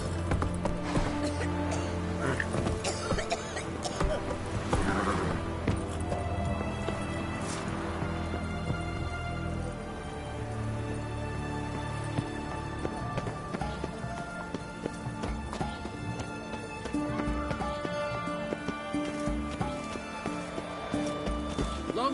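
Horse galloping in The Witcher 3 Wild Hunt video game, a continuous rhythmic clip-clop of hooves over layered music and ambience, with an occasional faint voice.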